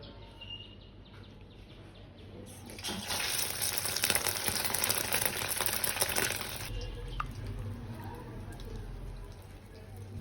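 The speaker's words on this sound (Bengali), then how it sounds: "এখন তেলে ভাজে নেব।" Batter-coated biscuit burgers dropped into hot oil, a loud sizzling hiss rising suddenly and holding for several seconds before easing back to a quieter crackle.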